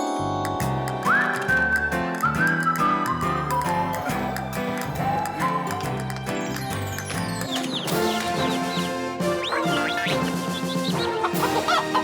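Cartoon farm chickens cluck and squawk in a Garfield animation, lively repeated clucks woven through bright whistling music and sound effects, loud and busy throughout.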